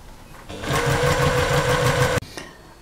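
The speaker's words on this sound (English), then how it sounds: "So I'm just now running along that seam, quarter inch again." A sewing machine runs steadily for about two seconds stitching a quarter-inch seam on a lap quilt, a close, loud, even mechanical hum with rapid needle chatter, starting and stopping abruptly.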